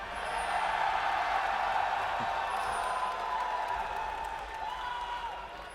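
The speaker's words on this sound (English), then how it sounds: "let me hear you cheer for Team Curse" A large live esports crowd at MLG Dallas 2012 cheering for Team Curse, a sustained roar of voices with whoops and applause that holds steady and then slowly fades.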